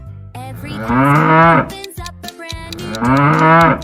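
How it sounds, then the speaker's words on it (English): A cow gives two long, loud moos separated by a short pause, set against a children's song with a voice singing. "It's a cow."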